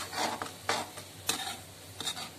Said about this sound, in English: Just wait for it to melt properly. Keep stirring it